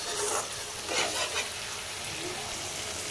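Oil sizzles steadily in a pan of pointed gourd curry with a spoonful of sugar, a soft continuous crackle with a few brief louder bursts of stirring.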